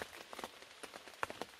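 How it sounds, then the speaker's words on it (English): Rain falling on a Napier Sports camo truck tent at night, scattered soft drops tapping the fabric irregularly over a faint steady hiss, quiet and close with no talking. "Woke up by the rain, raining again."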